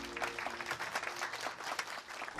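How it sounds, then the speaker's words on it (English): Applause from a group at a research cruise briefing, a steady patter of clapping hands close by, with a few faint voices mixed in. "You all deserve a round of applause."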